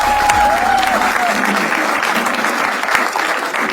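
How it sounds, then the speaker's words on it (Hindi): Studio audience at a comedy game show breaks into loud, sustained applause, a thick wall of clapping up close, with a faint voice briefly audible at the start. "तो शुरू करते हैं तालियों के साथ।"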